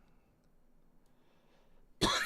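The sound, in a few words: coughing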